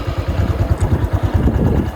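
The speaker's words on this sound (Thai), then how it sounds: "เดี๋ยวเรามาลองสตาร์ทฟังเสียงเครื่องยนต์กันนะครับ" A 2019 Honda Wave 110i motorcycle engine idles close by with a steady, loud, pulsing rumble after an electric start.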